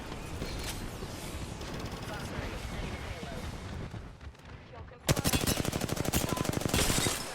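Video game gunfire in a shooter such as Warzone or Apex, with dense bursts of rapid automatic shots that grow louder near the end over a busy mix of game noise and voice chat.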